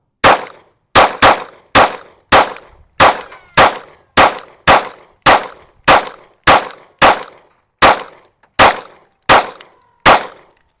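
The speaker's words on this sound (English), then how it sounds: "I'm just going to shoot as fast as I can on target." Glock pistol fired rapidly at steel targets, sixteen or so sharp, loud shots in a steady quick rhythm, each a crack with a ringing metallic clang from the struck plate, no voices.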